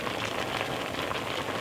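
Apples simmering in water in a pot, with a steady, even bubbling hiss that carries on without a break and stays close and moderately soft. No voices are heard.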